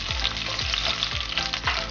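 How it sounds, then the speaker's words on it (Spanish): Serrano chile fries for a zucchini stew, giving a steady, close sizzle with bursts of crackling from hot oil and no voices over it. "Vamos a freírlo, ya que esté frito le agregamos el chile serrano."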